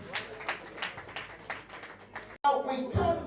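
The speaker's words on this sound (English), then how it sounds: "Please let's give her a round of applause" Scattered, moderate clapping from a crowd at the opening of St. Jacobs Hotel in Akure, followed by a brief gap and then a voice taking over.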